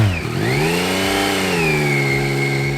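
Triumph-style CP3 inline three-cylinder engine on a naked motorcycle revving hard on the throttle, a loud, close, rising and sustained howl with clear harmonic tones, no talk.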